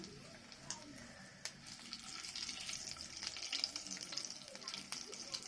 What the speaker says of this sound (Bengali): গোটা জিরে আর কাঁচা লঙ্কাগুলো একটু ভেজে নেবো।